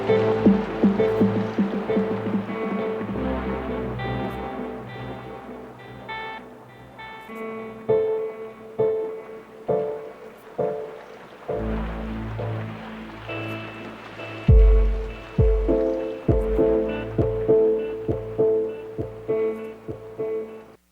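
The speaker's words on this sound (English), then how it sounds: "we are going to make an ambient generative piece on the Electron Digitakt" Sparse generative ambient music from an Elektron Digitakt sampler, with soft plucked and bell-like synth notes over low pads, scattered percussive hits and gentle swells.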